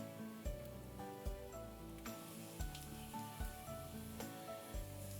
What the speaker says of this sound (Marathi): तिन्ही इन्ग्रेडियंट्स एकत्र आता छान भाजून घेऊया.